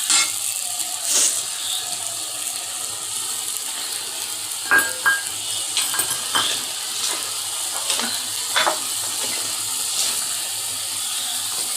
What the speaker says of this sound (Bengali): এই যে আমি কয়টা আলু দিলাম।